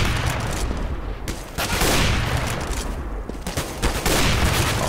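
Rapid bursts of automatic gunfire in a Counter-Strike match on de_cache, loud and close, with sharp repeated shots in clusters and brief gaps between volleys.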